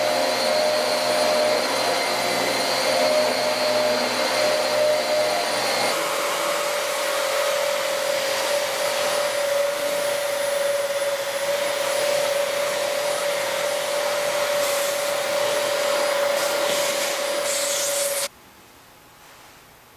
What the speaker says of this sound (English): let's do a test of the vacuum